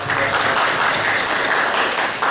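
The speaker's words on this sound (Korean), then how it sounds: "다시 한번 박수 부탁드리겠습니다" Dense, sustained applause from an academic conference audience after a battery research talk, steady and fairly loud throughout.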